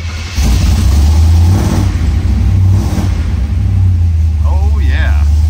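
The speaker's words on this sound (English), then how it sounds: "this is going to be a cold start in a big block" A 1973 Chevrolet Corvette with a big-block V8 starting from cold, catching and settling into a loud, deep, lumpy rumble with small throttle swells, heard close up, while a voice speaks briefly near the end.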